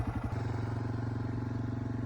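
Motorcycle riding through desert at sunset, its engine a steady close, loud rumble that holds even throughout after a short choppy start.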